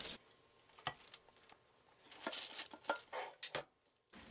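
A serving plate being handled in a kitchen while making a lemon yogurt cake gives scattered quiet clinks and clatters of dishware, with soft taps and brief louder knocks, and no one speaking.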